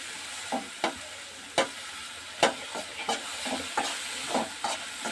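Tomato pieces fry in a pan, giving a steady sizzle punctuated by sharp stirring scrapes every half second or so, close and clear with no voices.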